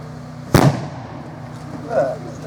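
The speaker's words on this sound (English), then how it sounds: "Another one we have is a pull tag one. Essentially what you do, pull the tag and kaboom." An airsoft pull-tag grenade goes off with one sharp, loud bang that decays quickly, followed by a quieter background and a short burst of distant voice.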